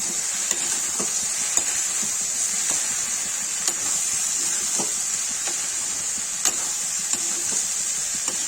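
Okra frying in a pan with turmeric and red chilli, a continuous bright sizzle broken by occasional soft stirring taps of a spoon, heard up close without any voices.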